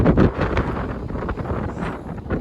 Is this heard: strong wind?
yes